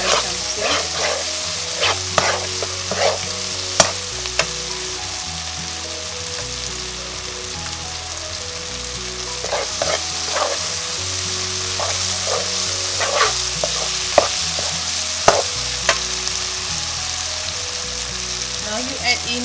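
Mee rebus ingredients frying and being stirred in a pan, a steady crackling sizzle with repeated sharp scrapes and clinks of the utensil against the pan, no voices.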